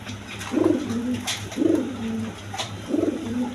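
Pigeons of various breeds kept for sale coo nearby, three soft, evenly spaced throaty coos rising over a quiet background, with no voices.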